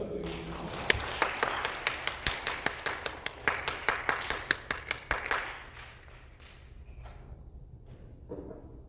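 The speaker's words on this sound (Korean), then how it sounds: "우리 권사님 나오시는데 격려의 박수를 부탁드리겠습니다" Church congregation at a Friday prayer meeting clapping in unison to encourage a deaconess coming forward, about twenty sharp rhythmic claps in steady beat for five seconds, then dying away into quiet room noise with brief murmuring.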